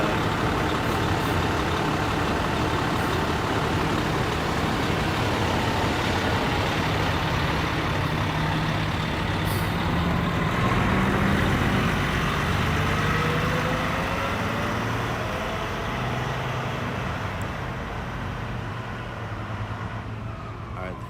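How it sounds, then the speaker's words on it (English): A fire truck engine rumbles on a city street in Bakersfield at an emergency scene, a loud continuous low drone with traffic noise, swelling slightly around the middle before easing off. "Fire truck has just left."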